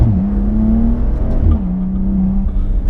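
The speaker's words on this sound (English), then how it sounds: "as far as the exhaust note goes, having it in sport mode, you can definitely hear it" A 2016 Maserati Ghibli S Q4 in sport mode gives a loud, close, steady droning exhaust note, with a brief dip as the automatic gearbox shifts before the engine settles back into its low rumble.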